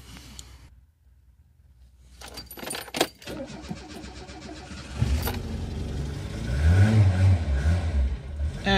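Renault 9 Broadway running on LPG is started after keys jingle: a brief crank, then the engine catches and settles into a close, rumbling idle with slight revving.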